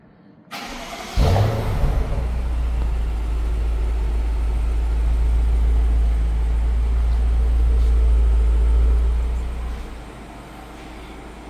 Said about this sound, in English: And that was the cold start sound.